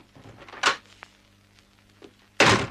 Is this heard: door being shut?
yes